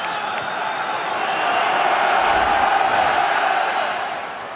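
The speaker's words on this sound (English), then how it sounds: "Flannery in to send the crowd into absolute raptures" A packed rugby stadium crowd roars in raptures after a try in a Munster versus Sale match, a loud, continuous wall of cheering and shouting that swells in the middle and eases slightly at the end.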